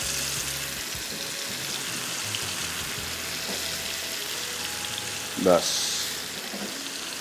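Pieces of fish frying in a pan over medium-low heat, a steady low sizzle running throughout, with a brief louder crackle near the end and a voice saying a word over it.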